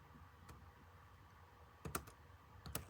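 A file name is typed on a computer keyboard in a few sparse, quiet key clicks, with a small burst of taps near the end, over a faint background hum.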